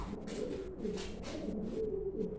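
Show pigeons coo close by in a loft, a soft rolling series of low, throaty coos continuing through the short stretch with faint background rustle.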